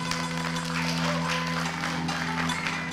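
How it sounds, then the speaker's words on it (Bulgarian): Audience applause after an award announcement at the Balkan Folk festival, a steady, dense wash of clapping held at an even level throughout, with a faint tonal hum underneath. "Аплодисменти!"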